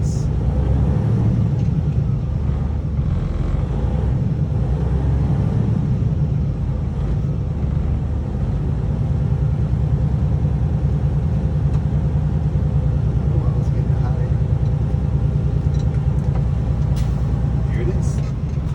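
A tractor-trailer sits idling to build up air brake pressure, its steady low diesel rumble running unbroken and fairly loud throughout, with no speech over it.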